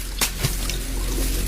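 Tap water splashing against a face in a bathroom, a short burst of pouring and wet slaps with a couple of quick splashes, close and alone.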